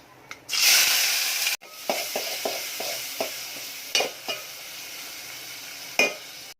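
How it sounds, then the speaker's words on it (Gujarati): Tomato, onion and chilli hit hot oil with cumin and asafoetida for a ridge gourd curry, bursting into a loud sizzle, then a spoon stirs with repeated soft scraping knocks over a lingering low fry. "હિંગ એડ કરીશું. ટામેટા, ડુંગળી અને મરચાં એડ કરીશું."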